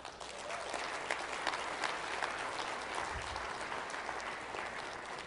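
Audience applause at a network marketing training seminar, steady and continuous with dense clapping, moderately distant and fairly quiet, with faint crowd murmur underneath.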